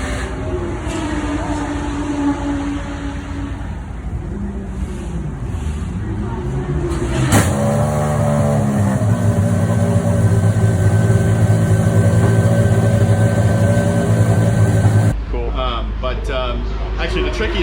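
A Porsche 911 RSR-19 race car cold-starts, its engine catching partway through and settling into a loud, steady idle, with someone talking over the engine noise.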